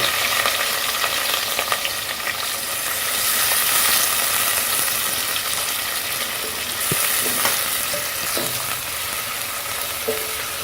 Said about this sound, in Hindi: प्याज को हम पिंक होने तक फ्राई करेंगे।